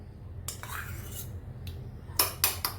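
A spoon whisks thick curd in a bowl for a paneer dish, giving a few scattered clinks and scrapes, with a louder burst of clattering strokes toward the end, fairly close and with no talking.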